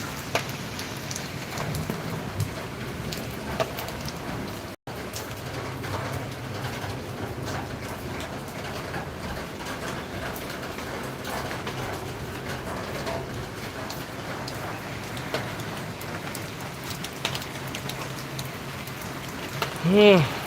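Steady monsoon rain keeps falling on a morning with lightning about, a continuous soft hiss with faint scattered drips, while a voice talks over it and a brief bird call sounds near the end.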